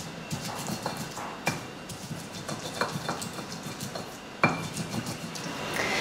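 Garlic and chili pounded in a mortar into a paste for Indonesian sambal, a series of close, irregular dull thumps and clacks with a few heavier strikes.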